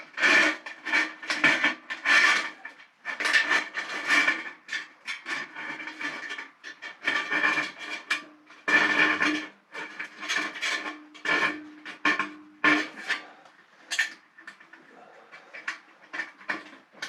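Wood being cut with a saw for a solar equipment wall mock-up, a series of rough, rasping strokes in uneven bursts with short pauses, close and fairly loud.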